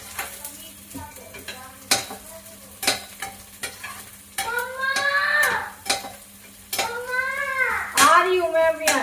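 Garlic and onion frying in hot oil in a pan, a steady sizzle broken by repeated sharp scrapes and clinks of a stirring utensil, with a high wavering voice or animal cry rising over it in the second half.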